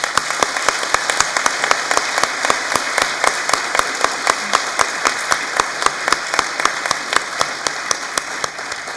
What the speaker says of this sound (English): Please join me in applauding all of these people who have helped you in your achievement